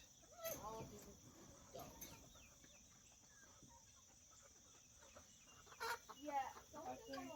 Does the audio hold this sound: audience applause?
no